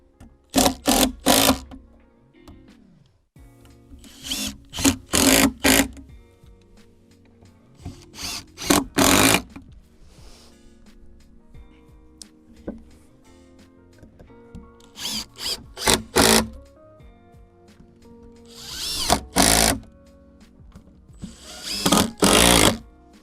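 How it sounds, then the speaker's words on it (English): A power drill drives screws into timber boards for a three-level garden base outdoors, sounding in repeated loud whirring bursts of a second or two, separated by quiet pauses, with a few faint knocks between. "just making sure that center screw is going to go into the middle board."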